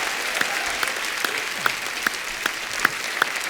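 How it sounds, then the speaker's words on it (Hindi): Studio audience on a comedy talk show breaks into applause, a steady ripple of clapping with a few sharper claps standing out, moderately loud and continuous. "चलिए एक बार डॉक्टर साहब के लिए जोरदार तालियां हो जाए।"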